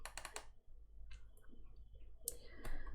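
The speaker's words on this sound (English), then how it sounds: "then you can double click on this PC" Computer mouse clicks in a quiet room, a few faint, sharp ticks including a quick pair of double clicks, isolated with near silence between them.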